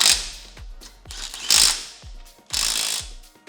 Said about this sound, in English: Torque the top hat nuts with a 17mm socket to 33 pound-feet.